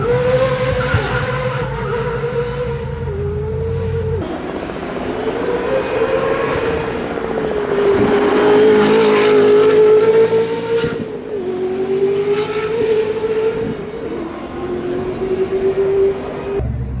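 A Koenigsegg CC850 engine revs and accelerates hard up a hill climb, rising and falling through gear changes, loud and close, with tire noise.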